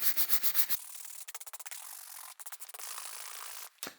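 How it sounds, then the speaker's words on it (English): A stiff brush scuffs dried mud off a hiking boot close by, with short rapid strokes in bursts, then a longer continuous scrubbing pass and a brief rub at the end. "all we're going to do is use this brush to scuff off"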